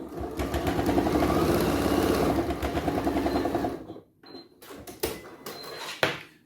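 A sewing machine runs a line of top stitching along the folded edge of a fabric hand sanitiser pouch, a steady close mechanical whirr that stops partway, followed by a few short bursts and clicks.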